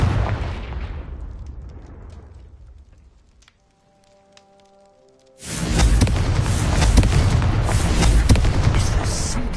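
The Confringo fire spell in Hogwarts Legacy, a loud roaring burst that fades into a sustained crackling, rain-like rumble after a brief near-silent gap with faint chimes, filling the last few seconds.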